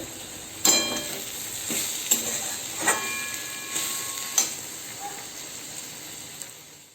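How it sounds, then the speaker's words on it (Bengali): Potatoes frying in a pan sizzle with a steady hiss, punctuated by sharp clicks and pops from stirring, with no talking. "এখানে আলু ভাজা হচ্ছে"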